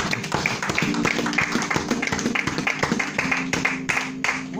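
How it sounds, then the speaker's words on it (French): A church congregation clapping together, dense overlapping handclaps with a rhythmic pulse, loud and close, continuing steadily without pause, with a faint murmur of voices underneath. "Applaudissez."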